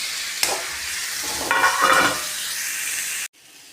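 Ground mustard spice mixture for a bilimbi pickle frying and being stirred in a pan, a steady close sizzle with scraping spoon strokes swelling midway, then cutting off abruptly near the end, with no talk.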